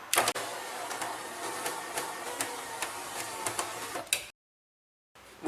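Fiat 147 electric window motor raising the glass, a whining hum broken by regular faint ticks, ending with a sharp stop thump followed by a brief silence and another short noise.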